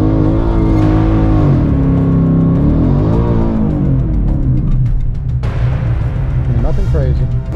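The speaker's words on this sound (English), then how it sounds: "Have to rip a little burnout here." A 2024 Ford Mustang GT V8 with a drag pack revs loudly and steadily through a burnout, its engine note rising and falling close by, with a voice briefly audible over the roar.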